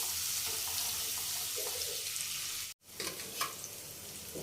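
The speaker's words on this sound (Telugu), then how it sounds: "వీటిని కూడా మంచి కలర్ వచ్చేంత వరకు వేయించుకోవాలి." Dried prawns fry in a pan with a soft, continuous sizzle. The sound cuts out for a moment partway through, then comes back with light scraping and clinks of the pan.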